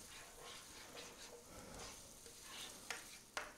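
Metal spoon scraping browned bits off a pan as Marsala wine cooks down, a faint soft sizzle with light stirring scrapes and two sharper clicks near the end.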